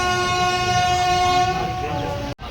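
A passenger train pulls out of a one-minute halt toward Pamban, sounding a long, loud, steady horn blast over the rolling rumble of the carriages before it cuts off abruptly.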